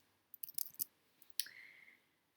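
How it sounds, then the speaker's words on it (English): Computer keyboard keys clicked in quick succession, a cluster of sharp close taps followed by one more distinct click with a faint trailing squeak, quiet and isolated with no speech. "I'm going to click number 2 on my keyboard"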